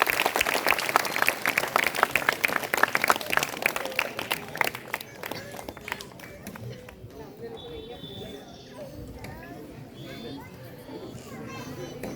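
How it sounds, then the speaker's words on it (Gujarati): An audience at a girls' school graduation ceremony applauds student ministers with dense, lively clapping for several seconds, mixed with children's voices and crowd noise, then the clapping fades and quieter chatter remains. "આ બધા જ મંત્રીઓને આપણે તાળીઓના ગડગડાટ સાથે વધાવીશું."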